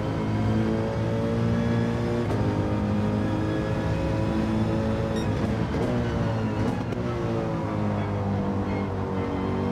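Mercedes-AMG GT3 race car in Gran Turismo 7 at Lago Maggiore, engine note rising steadily through the gears as it accelerates, a loud continuous harmonic drone with brief shift dips, no voices.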